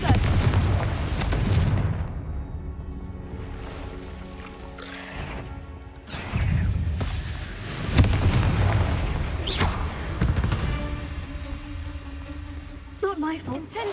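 Confringo explosion spells bursting in Hogwarts Legacy, heavy booming blasts landing several times amid a busy mix of game effects, with loud thuds and rumbling decays across the stretch.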